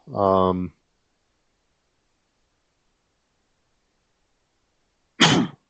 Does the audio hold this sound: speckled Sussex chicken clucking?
no